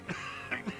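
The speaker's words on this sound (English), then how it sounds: "His hand shakes and he breaks into a coughing fit." A game character in Disco Elysium breaks into a coughing fit: three short, rough coughs in under a second, close and moderately loud, with no one talking.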